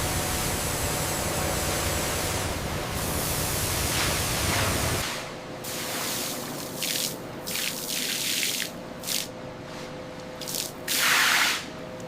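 A steady, loud hiss of a spray nozzle spraying cattle hides in a hide-processing factory for about five seconds, then quieter with short intermittent spray bursts and a final louder burst.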